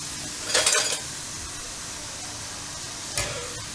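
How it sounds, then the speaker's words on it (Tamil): Diamond biscuit dough deep-frying in hot oil gives a steady, quiet sizzle, broken by two brief metallic stirring clatters, the first longer than the second. "நம்ம நல்லா இப்போ பொரிஞ்சு பொரிஞ்சு வருதுல்ல"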